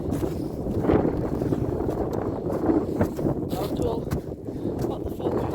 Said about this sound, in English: It's probably already 25-mile-an-hour winds.